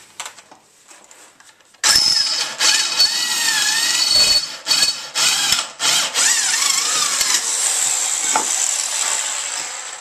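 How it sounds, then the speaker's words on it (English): A power drill whirs loudly in bursts while drilling holes for a tow hitch, spinning up and down with brief pauses between runs, close by and with no talking. "Just using a power drill"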